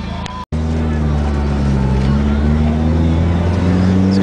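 Turbocharged Buick GS accelerating hard, its engine droning loud and steady with rising harmonic tones after a brief cut, sustained close-up roar throughout.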